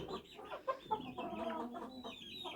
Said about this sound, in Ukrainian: Ось квочка сидить над нею.